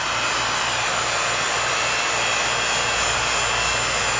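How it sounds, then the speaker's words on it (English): A vacuum chamber pump runs as a steady, loud, droning whir with a fine hiss, continuous and alone without speech while it sucks the air out in a physics lecture demonstration. "Let's turn the vacuum chamber on, suckle the air out and see what happens."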